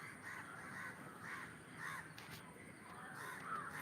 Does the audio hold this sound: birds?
yes